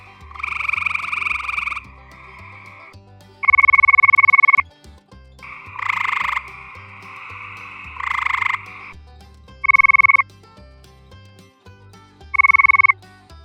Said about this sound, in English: We can synthesize frog calls to have a precise length and control for other variables